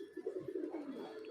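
Pigeons cooing as a small flock lands, soft repeated low coos close by with no voices over them.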